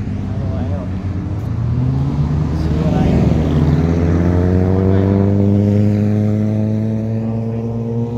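A motorbike approaches and passes close by on a road, its engine note loud and droning, then falling in pitch as it moves away.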